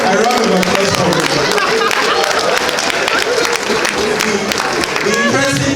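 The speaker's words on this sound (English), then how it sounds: "round of applause for her" Loud audience applause at an anniversary event, sustained dense clapping from a full room with voices mixed in beneath it.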